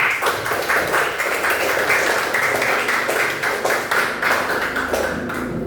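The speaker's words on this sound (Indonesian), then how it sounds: "Tepuk tangan untuk kita semua." A classroom audience applauds a group's presentation, steady clapping from many hands filling the room evenly for several seconds with no pause.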